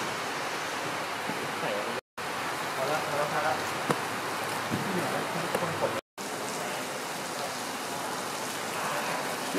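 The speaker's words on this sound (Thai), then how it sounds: "เอาฝนมาด้วยครับเนี่ย" Steady rain falls outdoors near a parked car at a COVID-19 vaccination site, making a continuous even patter across the whole stretch, with faint voices underneath.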